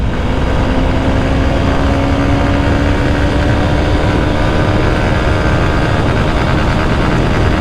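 Honda XBlade FI ABS motorcycle engine revving steadily and loud from start to end, with a rising tone as it pulls up through the gears and no voices heard.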